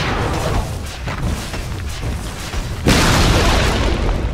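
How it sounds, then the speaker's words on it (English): A tower collapses in Dota 2 with a sudden, loud crashing boom that cuts in partway through and holds as a heavy rumbling roar over steady game ambience. "Radiant's top tower has fallen."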